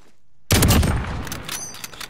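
Rapid burst of gunfire from the video game Call of Duty, opening abruptly with a loud crack and rattling on in quick, uneven shots over two seconds.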